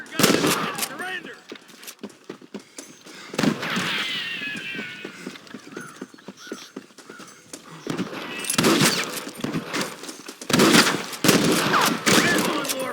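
Gunfire in the Western video game Red Dead Redemption: clusters of sharp, rapid shots in separate bursts, loud and close, with game character voices heard in the gaps between volleys.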